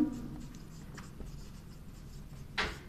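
Chalk or marker writing a sentence on a classroom board during a grammar lecture, a faint continuous scratching stroke with a brief louder scrape near the end, no voices.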